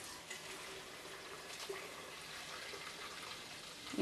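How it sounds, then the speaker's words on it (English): Plain tap water runs steadily from a kitchen faucet into a container, a soft continuous hiss with faint splashing and no speech. "just a quart of just regular water out of the faucet here"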